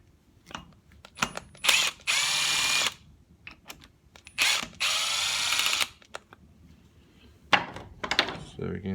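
A power drill backs out long bolts holding the carburetor on a whipper snipper, in three loud whirring bursts of about a second each, with ratcheting clicks and soft handling knocks between them.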